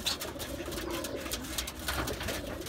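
Pigeons coo softly and repeatedly nearby, a low throaty murmur over faint background rustle.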